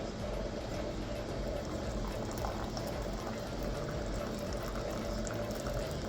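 Hot water poured into a coffee press, a steady close, continuous watery rush and gurgle that stays even throughout with no talking.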